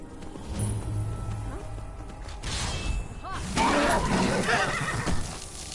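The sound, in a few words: horse neighing in the video game Skyrim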